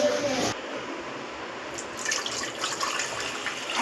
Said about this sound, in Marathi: तर कुकरमध्ये पाणी टाकूया आपण